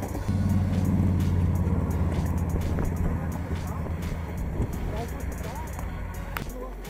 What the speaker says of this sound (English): Cars are coming in.